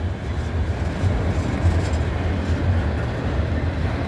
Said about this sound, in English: Probably a big heavy train trying to get it up to the top of the hill at the next signal.